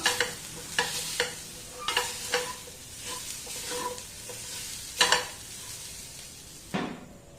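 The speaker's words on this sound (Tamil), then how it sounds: "சிறுபேர் வந்து இதில் சேர்த்துற போகிறோம் வெள்ளமும் சேர்த்து மிக்ஸ் பண்ண வேண்டியதுதான்" Cooked lentils and jaggery being mixed in a pan make close, irregular scraping and stirring strokes with a light sizzle between them, with no voices.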